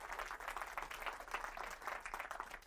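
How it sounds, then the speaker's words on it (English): Conference audience giving a quick round of applause, a faint, steady patter of many hands clapping at a distance for a few seconds. "So I think they deserve a quick round of applause"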